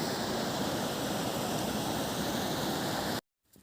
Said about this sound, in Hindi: सुन सकते हैं यहाँ नदी किस तरह बह रहा है।